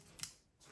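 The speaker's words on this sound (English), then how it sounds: "So these are emergency scissors." A pair of emergency scissors from a backpacking kit gives a single quick, faint metallic snip in a very quiet setting.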